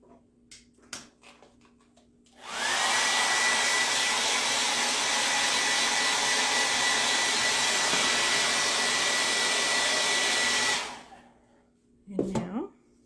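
A hair dryer blows a loud, steady rush of air for about eight seconds while drying a DIY craft kit piece. Brief close handling clicks come before it starts, and a short shuffle follows after it shuts off.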